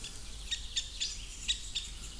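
Woodpecker calls, apparently agitated by a tawny owl in an old forest, come as a handful of short, sharp, fairly faint chirps at irregular intervals over a low, steady background hum.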